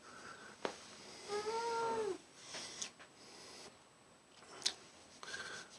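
A house cat meows in a drawn-out, rising-and-falling call mid-clip, close and clear, with soft clicks and rustles around it and no talking.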